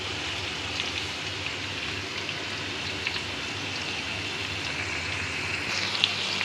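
Steady rain falling on an afternoon, a constant even hiss of drops with no pauses, moderately soft and unchanging throughout.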